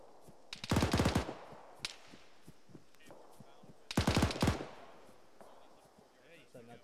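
Two bursts of rapid automatic gunfire sound during a military field training exercise, each lasting about half a second and separated by a few seconds, with scattered single shots and faint voices between them.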